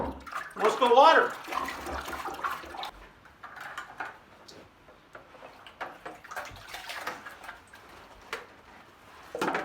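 Water runs steadily while plants are watered with a nutrient mix, a continuous splashing flow heard close by, with a voice briefly at the start.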